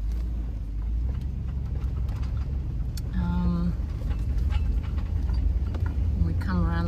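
A car creeps slowly with its wipers running, a steady low engine and road rumble throughout, while a person talks over it.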